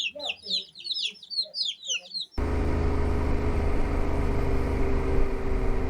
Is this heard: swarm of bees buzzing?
no